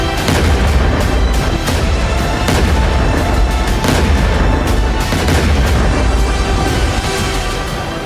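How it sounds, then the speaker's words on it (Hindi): Missile strikes over West Asia roar in loud, continuous booming and rumbling blasts, with crackling, gunfire-like bursts and echoing explosions layered densely throughout. "पश्चिम एशिया के आसमान में मिसाइलों की रोशनी और धमाकों की गूंज"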